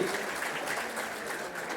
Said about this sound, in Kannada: ಅವ್ರಿಗೊಂದು ಜೋರಾದ ಚಪ್ಪಾಳೆಯನ್ನ